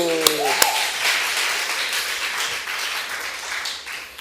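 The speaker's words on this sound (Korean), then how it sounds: "박수." Applause breaks out in a church after a spoken declaration, a spread-out patter of clapping that stays fairly steady and moderate, with a voice audible at the start.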